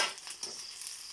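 June beetles frying in hot oil, a dense hissing sizzle heard close and loud, continuous through the short stretch with no voices.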